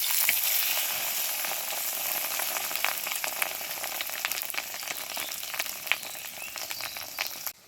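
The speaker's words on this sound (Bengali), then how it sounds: "এবার মাছের ডিমগুলো ভেজে নেব।" Fish roe fritters fry in mustard oil in a kadai, giving a steady, close crackling sizzle with scattered sharper pops throughout.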